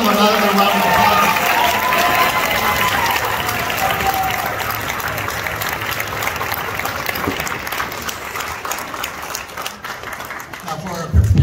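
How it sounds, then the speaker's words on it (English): A school concert audience of parents, family and friends applauds a fourth grade band, steady clapping with some cheering continuing throughout and swelling again at the end. "Let's give them another round of applause."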